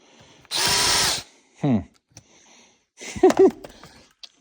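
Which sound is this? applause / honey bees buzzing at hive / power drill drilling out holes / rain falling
power drill drilling out holes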